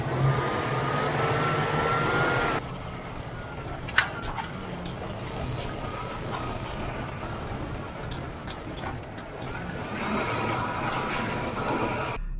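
An off-road vehicle ripping around outdoors, a loud, continuous engine and drivetrain roar with rushing wind noise that eases after a few seconds and then builds again near the end.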